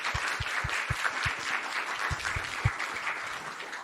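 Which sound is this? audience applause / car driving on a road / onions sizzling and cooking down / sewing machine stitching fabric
audience applause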